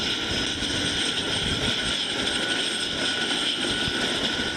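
A helicopter waits for people to board, its engine and rotors giving a loud, steady whine and roar that runs unbroken with no speech.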